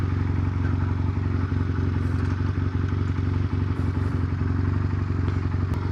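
A budget motorcycle priced around £1,200 idles steadily and fairly quietly, a continuous low engine hum with light mechanical clatter and no voices.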